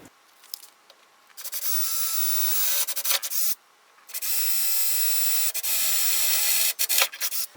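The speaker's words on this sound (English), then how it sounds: "I'll go ahead and drill the proper hole" A power drill bores holes in a Porsche 911 RS door, giving two long steady whirring bursts, each a few seconds long, with short bits of scraping and clicks around them and a brief gap between bursts.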